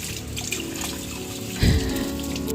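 Water splashes from a pour onto potted house plants indoors, a soft trickle that swells into a brief, fuller gush midway before settling again.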